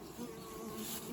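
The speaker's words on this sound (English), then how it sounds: "That's what the bees have their head down in there for, is they're putting more into it." Honeybees buzz at an opened Russian nuc hive, a dense, close, continuous drone holding steady for just over a second with no voices.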